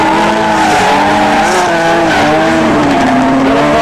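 Car drifting sideways at a motorsport event, with a loud, continuous squeal of sliding tires over a roaring engine, close and steady throughout.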